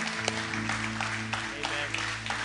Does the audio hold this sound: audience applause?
yes